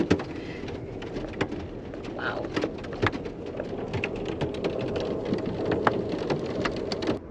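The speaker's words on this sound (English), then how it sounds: "you can probably hear the hail now hitting" Hail drums on the roof and windows of a moving Amtrak passenger train during a thunderstorm, a dense, steady clatter of sharp impacts over a low rumble, with a single brief exclamation from a passenger.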